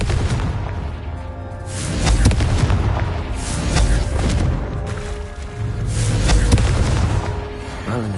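Repeated heavy booms from the Confringo fire spell in Hogwarts Legacy, several deep, loud explosions swelling and fading in waves, with crackling debris between blasts and no voices.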